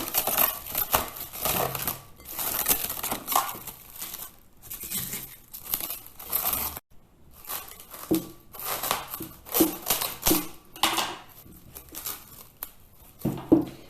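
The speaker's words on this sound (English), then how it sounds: "Cover the bowl with some cling film." Cling film is pulled off the roll and stretched over a bowl of oiled pizza dough, with close crinkling and tearing bursts that come in uneven, repeated strokes, separated by a brief pause midway.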